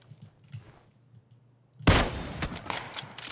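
A SCAR rifle fires in PUBG, opening after quiet shuffling with a loud, sudden burst followed by a rapid string of sharp, echoing shots.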